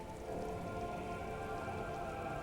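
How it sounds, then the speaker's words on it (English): Steady rain pattering on wooden boards and open water in the game Disco Elysium, a dense, even hiss that holds at a constant level throughout with no voices. "All around you, rain keeps falling down. On the wooden boards she's standing on, and on the water around you."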